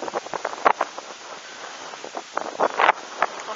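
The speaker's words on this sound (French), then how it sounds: "Des grosses rafales de vent." Gusty wind from storm Hans rushing past in uneven bursts in Tour-en-Sologne, France, with sharp peaks of buffeting against the microphone between calmer moments.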